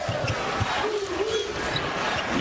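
A basketball arena crowd at a Louisville versus Notre Dame game roars and cheers after a dunk, a loud, sustained wash of distant voices with a commentator speaking over it.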